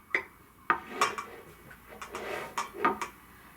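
A wooden spoon scoops mud pudding into a serving cup, making several sharp, close clinks and scrapes at irregular intervals with soft rustling between; no voices.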